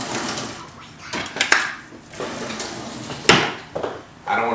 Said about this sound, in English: I need to grab a fresh knife